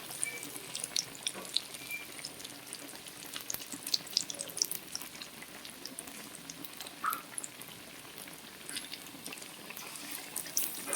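Chops frying in plenty of oil, a faint, continuous bubbling sizzle with scattered soft pops throughout.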